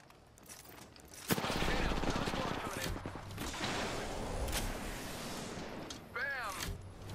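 Rapid, sustained automatic gunfire from a weapon in the Apex Legends battle royale shooter, dense and loud for several seconds with brief gaps between bursts, mixed with in-game noise and a player's voice talking over it.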